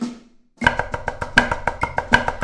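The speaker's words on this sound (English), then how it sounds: "So like float, flam, drag is the first rudiment" Snare drum playing a float flam drag rudiment, crisp strokes in quick repeating groups of grace notes and accents, close and clear after a brief silent start.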